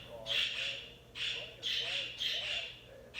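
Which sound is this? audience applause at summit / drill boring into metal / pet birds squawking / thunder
pet birds squawking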